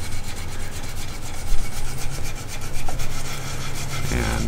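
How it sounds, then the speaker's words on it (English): A guitar neck is sanded along the grain with 150 grit sandpaper, producing a steady, close, continuous rasping rub with a rhythmic back-and-forth pulse and no talking. "we use the same grit, but we sand along the grain to get rid of those scratches"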